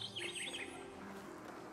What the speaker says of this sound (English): And my bird is going crazy.